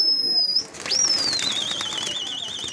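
Pigeons in a loft, with soft fluttering and a thin, high whistling tone that runs almost throughout, while a voice is heard faintly in the background.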